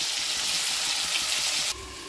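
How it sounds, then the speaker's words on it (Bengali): Potatoes and cauliflower frying in hot oil in a wok give a steady, loud broadband sizzle that drops slightly in level near the end, with no voices present. "আগে ফুলকপি আলুটা একটু ভেজে নিই ভালো করে।"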